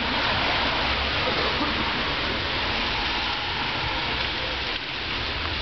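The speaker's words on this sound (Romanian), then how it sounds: "este aversă locală de ploaia asta" A local rain shower falls steadily outdoors in February, a dense, continuous hiss of drops that stays even and fairly loud from start to finish, with no pauses.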